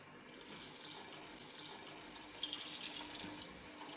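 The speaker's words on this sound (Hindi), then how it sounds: "अब मैं इसमें डालने लगी हूँ पानी।" About three glasses of water poured steadily into a cooking pot of fried chickpeas and masala, a continuous soft splashing rush heard alone and fairly quiet.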